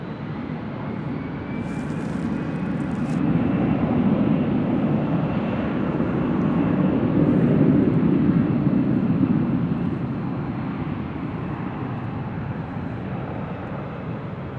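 A Delta jet airliner takes off from runway 24 left at LAX, heard from a distance as a broad steady engine roar that swells and then slowly fades.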